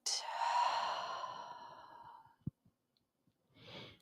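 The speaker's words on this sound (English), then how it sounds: "And breathing out." A long, slow exhale during a yoga flow, a soft airy sigh that fades gradually over about two seconds, followed by a few quiet clicks and a short faint breath in.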